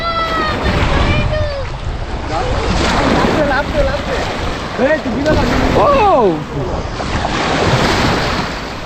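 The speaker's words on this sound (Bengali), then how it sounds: "প্রচন্ড ঢেউ নদীতে" Strong waves churn on the Padma river in a loud, continuous wash, with heavy wind buffeting the microphone and voices calling out over the surf.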